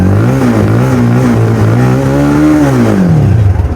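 A 250-400cc motorcycle engine revving loud and close, a sustained throaty drone that swells and wavers in pitch before tailing off, with no talk over it.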